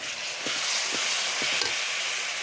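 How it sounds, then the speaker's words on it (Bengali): Onions sizzle steadily in hot oil in a pan over a clay stove, a loud continuous frying hiss with a few soft stirring scrapes underneath. "এখন পেঁয়াজটা ভাজা হয়ে গেছে"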